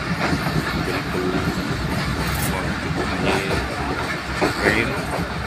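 A train at Nawabshah railway station gives a loud, continuous rumble and clatter of rolling rail cars that lasts through the whole stretch.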